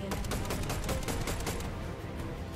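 Rapid automatic gunfire in the Fortnite video game, a dense, loud burst of repeated shots filling the whole moment with no pauses.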